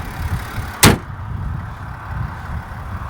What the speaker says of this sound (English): When I close the hood,